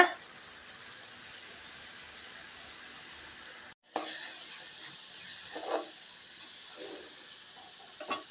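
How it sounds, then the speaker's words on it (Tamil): Carrot halwa with jaggery sautés in a pan, giving a soft, steady sizzle and bubbling with a few scraping stirs. It breaks off briefly partway through, then resumes quietly. "சர்க்கரை கரைஞ்சி நல்லா சுருளாக வதங்கட்டுங்க"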